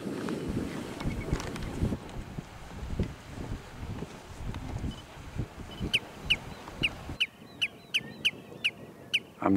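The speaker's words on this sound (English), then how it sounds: "there are a lot of really nice birds around here" Wild birds calling near Reykjanes lighthouse in steaming geothermal ground in Iceland, with a run of sharp, repeated bright calls in the second half over a rumbling wind-like background, fairly close and distinct.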